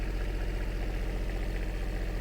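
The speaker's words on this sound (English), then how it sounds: "It's a fully electronic generator, and it is a full cold start. It lights off right away." A fully electronic boat generator on a Nordic Tug 37, cold-started, idles at a steady, even rhythm, a close, constant low throb with no voices.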